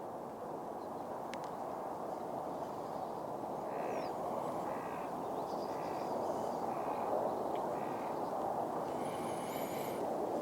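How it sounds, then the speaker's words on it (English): A crow caws in a few short harsh bursts, distant and faint over steady broadband background noise outdoors near a railway. "There's a noisy crow down there"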